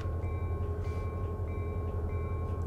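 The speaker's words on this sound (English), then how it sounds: "Couple blasts on the horn" A diesel locomotive in the Run 8 train simulator, idling with a low, steady engine rumble, while short repeating horn-like tonal pulses sound about every half second over it.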